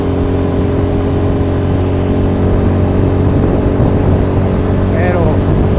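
A 2023 Bajaj Pulsar N250 motorcycle on a race track gives a loud, steady engine drone with a strong low hum and wind rush, holding a near-constant pitch throughout.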